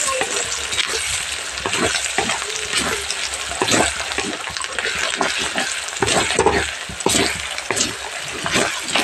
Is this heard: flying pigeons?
no